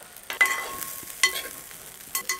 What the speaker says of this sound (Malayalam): ഒന്ന് ഇളക്കി കൊടുക്കട്ടെ.